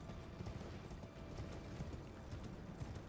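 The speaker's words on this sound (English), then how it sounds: "He's not going to be any trouble for us though, because we got a fast horse." In an open-world fantasy video game, a fast horse gallops with a soft, rapid, rhythmic drumming of hooves, low and muffled, running steadily under the game's ambient sound.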